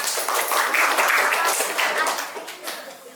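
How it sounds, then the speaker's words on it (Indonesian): Students in a classroom clap briefly in a scattered burst of hand claps lasting about three seconds, fairly close, tapering off at the end. "kasih tepuk tangan"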